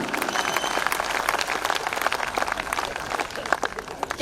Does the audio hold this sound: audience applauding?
yes